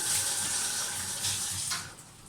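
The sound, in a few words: washing hands under running tap water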